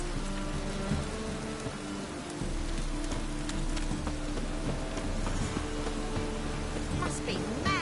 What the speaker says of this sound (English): Must be mad running around in this rain.